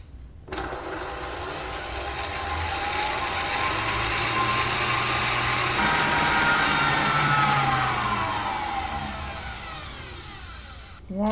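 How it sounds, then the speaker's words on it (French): A stand mixer whips cream at medium speed 4, giving a steady, continuous motor whir that swells slightly mid-way and runs for about ten seconds with no talking. "Je vais mettre le robot en marche sur vitesse 4, c'est une vitesse moyenne."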